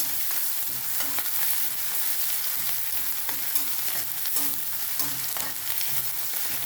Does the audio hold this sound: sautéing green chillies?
yes